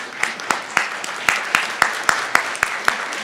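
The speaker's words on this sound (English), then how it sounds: "can we just pause and have a round of applause for that?" An audience at a talk on marijuana legalization claps in a steady, rhythmic run of distinct, evenly spaced claps, fairly close and moderately loud, with no one speaking over it.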